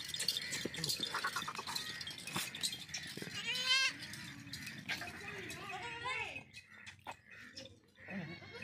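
Several goats in a herd bleat and call near the microphone, some calls drawn out and wavering, with rustling and background voices mixed in.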